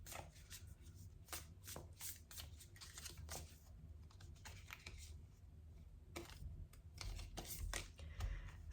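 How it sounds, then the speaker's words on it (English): Tarot cards are shuffled by hand, a close, faint run of quick riffling flicks and soft card slaps repeating in uneven bursts without speech. "let's get a few more tarot cards and then we can really get into this"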